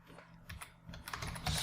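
Keys tapped on a computer keyboard while typing a disk partition command, a quick run of soft, close clicks over faint room hiss, growing slightly busier toward the end.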